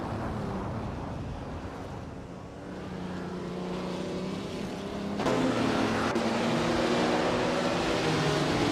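Race car engines drone steadily in a racing video game featuring a 1957 Ferrari 250 Testarossa, a continuous mid-pitched roar that swells louder around the midpoint and holds there, with no voices.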